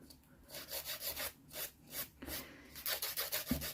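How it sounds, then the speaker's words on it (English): A nail file rasps gently in repeated short strokes over the split corner of a fingernail, close and soft, with brief pauses between passes. "So I'm just very gently filing that corner away."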